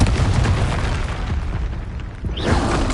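Confringo fire spell exploding in the Hogwarts Legacy video game, a loud sustained blast with a roaring rumble that dips briefly, then swells again into a second burst.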